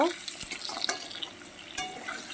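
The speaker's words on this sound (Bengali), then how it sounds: "এবার দিয়ে দেব কাঁকরোলটা এটাও আমি দু চার মিনিট একটু ভেজে নেব" Kakrol (spine gourd) pieces added to a pan, sizzling and frying with a steady wet hiss and a few soft stirring clicks, close and fairly quiet.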